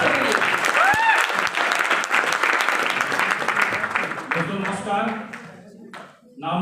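Audience at a leaders' gathering applauding loudly for Amit Kumar, a thick burst of clapping that gradually thins and fades out toward the end.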